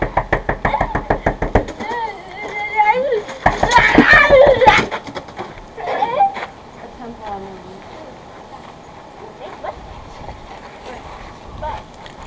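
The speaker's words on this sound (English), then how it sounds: "suddenly there was a knock on the door" Sharp knocks on a door ring out in a quick series at the start, followed by a second burst of knocking, with people talking over and between the raps.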